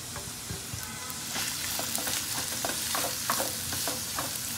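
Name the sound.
onion, capsicum and green chilli frying in a pan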